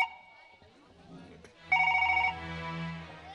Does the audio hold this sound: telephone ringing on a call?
yes